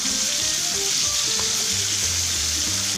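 Rohu fish steadily sizzling in hot oil in a pan over medium heat, a close, continuous crackling hiss with small pops and no voices.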